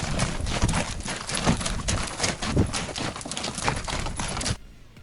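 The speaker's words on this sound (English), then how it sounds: "I actually love seeing those pack horses come through." Pack horses clip-clop along a backpacking trail, a steady run of close hoof strikes on ground that continues for several seconds before ending abruptly.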